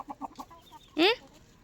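A chicken nearby gives a few soft, quick clucks, then one louder, rising squawk.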